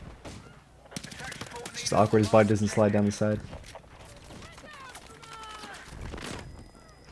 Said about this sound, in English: getting shelled by the mortar